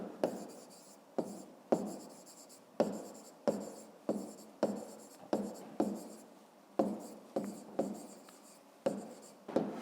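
A pen scratches across paper while a math solution is written out by hand, producing a quick series of close, crisp strokes separated by brief pauses.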